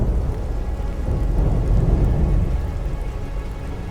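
Steady heavy rain with a low rumble of thunder swelling in the middle, dense and continuous throughout, no voices.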